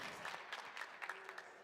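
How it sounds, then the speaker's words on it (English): A crowd at a PUBG Mobile World Invitational esports event applauds and cheers as a brief, dense wash of clapping, heard from a distance at low volume. "I love hearing that crowd"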